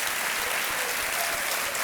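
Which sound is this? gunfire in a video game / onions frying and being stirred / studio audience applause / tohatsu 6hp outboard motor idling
studio audience applause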